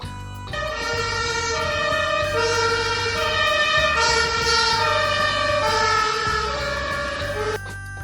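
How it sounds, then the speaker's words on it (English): An ambulance siren wails loud and close, sweeping up and down in pitch and holding steady for several seconds before cutting out. "Ambulances help sick people."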